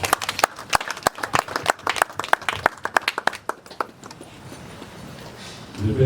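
Congregation clapping at a funeral service, a rhythmic burst of hand claps for about four seconds that gives way to quieter room noise.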